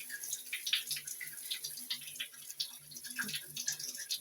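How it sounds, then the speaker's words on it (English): Water runs through a newly installed rain shower head in a bathroom being remodeled, a close spattering splash with uneven pulses of droplets. "got water coming through."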